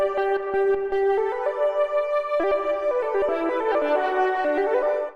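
A bright, buzzy synth lead patch called Less Inferno plays a stepping melody of stacked, sustained notes for about five seconds in an R&B beat, loud and alone.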